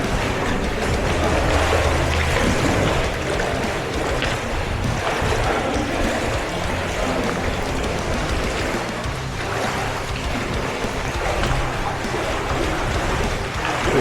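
Steady rushing flow of cold cave water along a rainforest trail in Merapoh, loud and close, a continuous broadband wash with slight wind buffeting and no talk.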